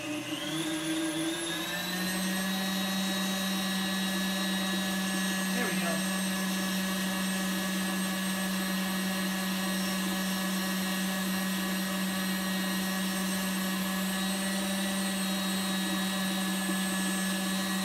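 An electric mixer runs at a steady, loud whir as it works powdered sugar into chocolate frosting, one continuous motor drone after a brief speed change at the start, with a faint scrape partway through.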